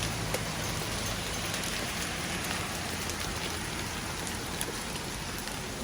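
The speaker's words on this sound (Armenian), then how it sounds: "որպեսզի նկարեմ ինչ կարկուտ է գալիս մեզ մոտ" Hail falls on a balcony in California as a dense, steady, close patter of countless tiny impacts, unbroken throughout.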